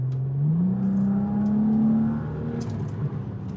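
A 400 HP BMW 335i, F30 generation, revs and pulls through a turn: the engine note climbs, holds a steady drone, then drops back to a lower hum, heard from inside the car at moderate level.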